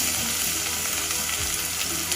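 Garlic sizzles and fries in a medium saucepan as the start of a kare kare sauce, a steady, close, dense hiss that holds at an even level throughout with no talking.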